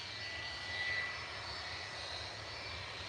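Aircraft engine at Manchester Airport, a plane arriving in plain white livery, heard as a steady, distant jet roar and hiss that holds an even level throughout with no voices.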